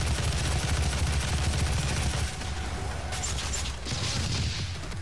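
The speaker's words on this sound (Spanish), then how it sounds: "Tengo aquí fusil Gauss." Rapid gunfire from a Gauss rifle in the video game Doom, a dense, loud burst of weapon blasts and mechanical clatter that runs steadily throughout with a short dip midway, without talk.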